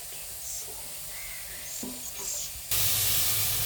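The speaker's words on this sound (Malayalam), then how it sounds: "ആവശ്യമുള്ള വെള്ളം ഒഴിച്ചു കൊടുക്കാം" Water is poured into a hot pan of Kashmiri chili masala for a sardine curry, and a sudden loud, steady hiss bursts out about two-thirds of the way through and continues to the end, after a quiet kitchen background.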